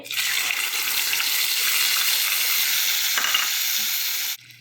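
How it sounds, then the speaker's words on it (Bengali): Mustard paste mixed with spices hits hot oil in a pan, giving a loud, continuous close sizzle and hiss of frying that holds steady for several seconds and then cuts off abruptly. "এখন আমার সব কিছু মিক্স করা সরিষা বাটা এগুলো আমি দিয়ে দিতেছি তেলে"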